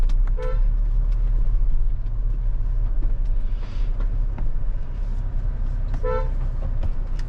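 On a road near Omkareshwar in Madhya Pradesh, an oncoming vehicle sounds two short horn toots, one near the start and one near the end, over a steady engine rumble.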